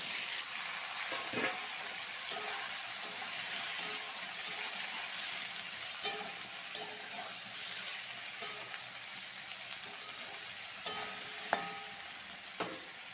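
Okra sizzles steadily in hot oil with fried onion, with occasional sharp clicks and scraping stirs punctuating the constant frying hiss.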